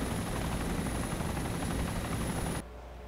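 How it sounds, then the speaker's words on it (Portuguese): Aircraft in the video game Arma 2 roaring overhead with a loud, steady broadband engine drone that cuts off abruptly near the end. "Positivo, é um avião."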